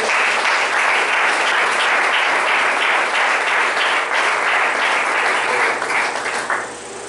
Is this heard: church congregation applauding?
yes